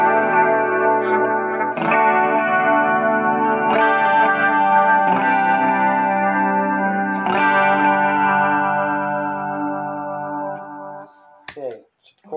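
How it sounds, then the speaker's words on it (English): Electric guitar run through a VSN Echo Delay pedal with chorus added, sustained shimmering chords struck every couple of seconds and ringing out alone, then a few quick strums at the end. "throw a little chorus"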